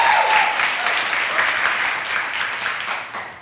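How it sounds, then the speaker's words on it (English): Studio audience on a talk show giving a steady round of applause that holds fairly loud for a few seconds, then gradually tapers off. "Bonne applaudissements."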